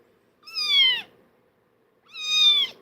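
A kitten gives two loud, drawn-out meows about a second and a half apart, close by, with quiet in between and no voices.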